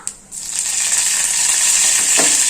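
Cumin, mustard seeds and curry leaves sizzle steadily in hot oil for a tadka, a bright continuous frying hiss that starts abruptly and stays loud and close throughout, with a small clink near the end.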